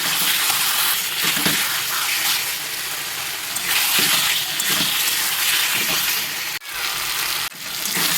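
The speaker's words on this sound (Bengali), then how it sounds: "এই পর্যায়ে আরেকটু কষিয়ে জল দিয়ে দেবো।" Fish curry masala sautéing in hot oil in a pan, a steady loud sizzle and crackle running throughout, broken by a couple of brief stirring scrapes near the end, with no voices.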